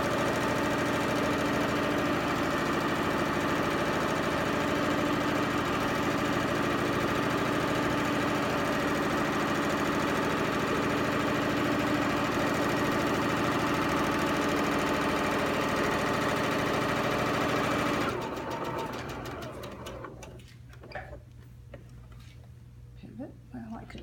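A sewing machine stitches a pillowcase made by the burrito method, a steady mechanical hum running evenly and close for most of the stretch, then stopping abruptly near the end and leaving quieter room sound.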